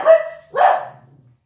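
Dogs barking at a caretaker walking past a window, two loud close barks about half a second apart followed by a low trailing growl.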